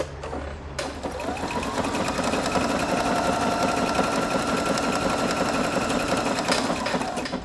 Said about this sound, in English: And now I'm just going to start sewing.